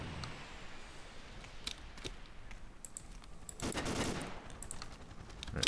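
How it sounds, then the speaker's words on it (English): Gunfire in Ace of Spades, a blocky Minecraft-style shooter: scattered sharp cracks and short bursts at a distance, with a denser cluster near the end, under faint background ambience and no talk. "there's somebody shooting"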